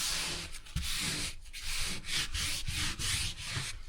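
Light sanding of unprimed wood on a narrowboat: steady, rhythmic back-and-forth rasping strokes, close and continuous.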